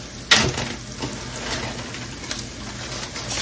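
Onions fry in a pan with a soft, steady sizzle, broken by a brief clatter near the start and a few light stirring scrapes, with no talk.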